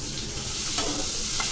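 Food fries in a pan while being stirred, giving a continuous close sizzle with a few scraping stir sounds and no voices.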